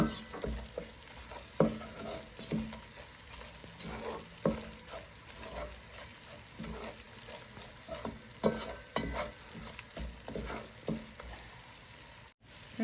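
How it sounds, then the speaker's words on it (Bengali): Meat for haleem stir-fried in a pan, with repeated close scraping stirs at an uneven rhythm over a soft, continuous sizzle. "মাংসটা কষিয়ে রান্না করব"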